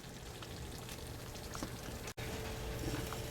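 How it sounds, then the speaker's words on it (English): Vegetables in a pan give a steady crackling sizzle with bubbling and spattering, close and continuous apart from one momentary dropout, with no talking. "we're getting a little bit of steaming and boiling action"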